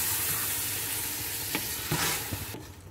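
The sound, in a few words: keema minced meat sizzling with yogurt and onion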